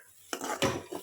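A spoon scrapes and clinks against a pan while puran filling with jaggery is stirred and roasted, two close, loud bursts of metal-on-pan scraping after a quiet start, with no talking.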